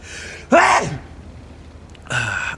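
A single loud, close sneeze bursts out with a sharp intake, followed by quiet and then a brief breathy noise.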